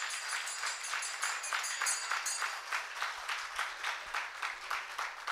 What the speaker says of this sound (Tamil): இங்கே இருக்கிறவெல்லாம் நிறைய கைத்தட்டி உற்சாகம் கொடுக்கணும் அவளுக்கு